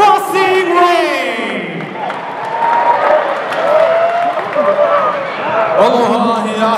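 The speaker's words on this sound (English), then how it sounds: "nice round of applause" Arena crowd applause and cheering at a men's college volleyball match in Honolulu, a loud continuous roar of clapping and shouts filling the hall, with a voice over the public address carrying through it.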